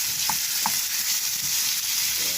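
Chicken liver for adobo fries in a pan with a constant, close sizzle and a few soft stirring clicks.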